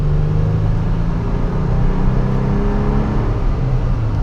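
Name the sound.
Toyota Tacoma engine revving under acceleration while driving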